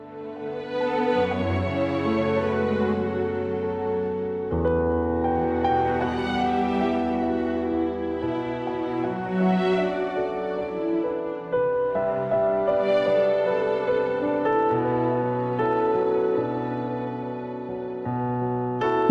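Collecting conch shells in the video game Rime builds a gentle melodic tune, with layered, sustained tones and soft chime-like notes swelling and fading in slow phrases, clear and unbroken by talk.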